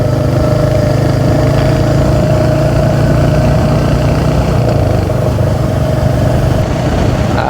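A Hunter motorcycle engine runs at a steady idle, a loud, close, continuous low rumble with no revving.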